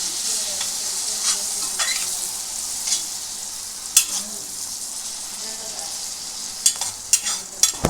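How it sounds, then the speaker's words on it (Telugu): Tomatoes fry and get stirred in a pan for cheese masala Maggi, a steady sizzle broken by repeated scraping strokes of the spoon that grow busier toward the end. "let it fry for a while"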